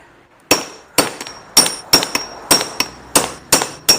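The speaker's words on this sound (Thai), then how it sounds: "แล้วก็ตอกลงไป" Sharp metallic hammer strikes ring out one after another, about ten evenly spaced blows driving out an electric fan shaft, loud and close, each with a bright clanging ring.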